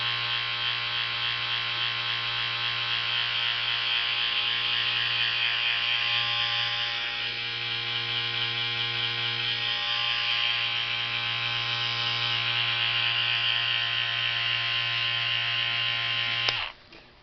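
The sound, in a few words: Andis cordless T-Outliner lithium ion hair trimmer running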